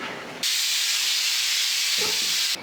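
Loud, sustained hiss of steam forcefully venting from a pressure cooker, starting abruptly and cutting off after a couple of seconds.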